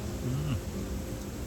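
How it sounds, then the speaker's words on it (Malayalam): A hummingbird's beating wings make a soft, continuous buzzing hum, close by, lasting a second and a half in a rainy outdoor setting. "humming ബേഡാണ് humming bird"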